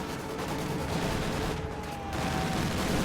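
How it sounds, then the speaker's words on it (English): Mortar and field gun fire in a war video game booms in a dense, rumbling burst of overlapping blasts that roll on steadily for a few seconds. "Mortar and field gun fire on that sniper."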